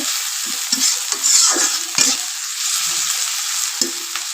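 Chopped onions sizzle steadily in a hot pan of oil for a big kholisha fish dish, with a spoon scraping and stirring through them in several close, distinct strokes and no talk.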